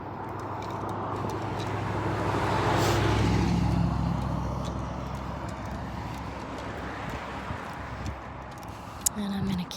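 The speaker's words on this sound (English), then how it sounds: "The parallel traffic is on my left." Parallel road traffic passes beside a sidewalk, one vehicle swelling and fading as it goes by, with someone talking over the passing noise.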